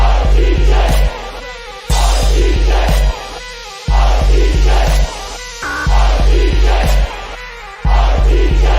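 Crowd cheering looped over a heavy, pounding beat with booming bass, the roar swelling in repeated bursts, loud and layered into music rather than alone.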